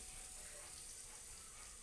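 Water runs steadily from a kitchen tap while kande pohe is being cooked, a faint, even hiss with no voices over it.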